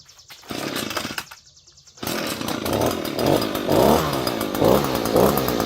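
An Echo PB-250 two-stroke engine with its choke on fires briefly and dies. It then catches and keeps running with a loud, close, raspy buzz that rises and falls as it revs.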